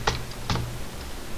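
Two quick keystrokes on a computer keyboard, close and crisp, with a faint tap between them, while a command is entered at a Linux terminal; otherwise quiet.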